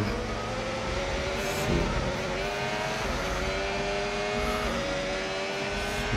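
Race car in a racing video game on a wet circuit, a continuous loud engine whine shifting in pitch as it accelerates and brakes, steady throughout with no voices.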